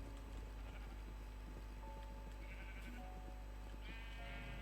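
Several sheep in a modded Vanilla World game bleat in a clear, drawn-out series, with hoof clip-clops and livestock noises beneath a steady game ambience.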